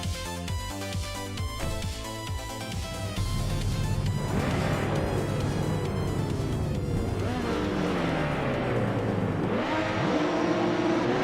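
Vintage racing cars in a video game AI race at the Autodromo Oscar Juan Galvez, with loud, continuous engine roar and repeated rising and falling revs as the cars accelerate and shift gears.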